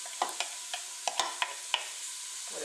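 Minced meat browning in olive oil with softened onions in a Cookeo multicooker pot, with a faint sizzle broken by about seven sharp spatula knocks and scrapes against the pot.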